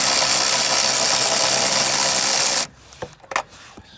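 Power tool loosening the 10 mm alternator nuts on a Chevy Equinox: a loud, continuous whirring buzz for under three seconds that stops abruptly, followed by a few faint clinks.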